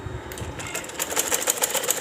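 A sewing machine stitches fabric for a ladies' sleeve design, running in a fast, even chatter of needle strokes that starts up after a brief pause and continues steadily and close.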